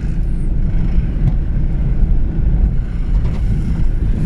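Steady low engine rumble and road noise from inside a moving Mazda Bongo 4x4, with a constant wind buffeting over it and no talking.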